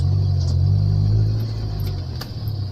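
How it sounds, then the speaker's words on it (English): A manual-transmission car engine drones low and steady, then its revs drop away as the driver upshifts from first to second gear, a close, rumbling hum that eases off midway with no talking. "determine when you need to up shift engine speed, like this, from 1 to 2nd gear"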